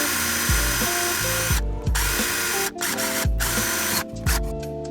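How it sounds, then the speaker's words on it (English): A power drill bores a mounting hole for BMW E46 M3 pedals, its motor whining in repeated short bursts that rev up and bog down, loud and close with no talk. "Then after I do that, I drill a second hole while the first screw is in so that way I get a perfect alignment."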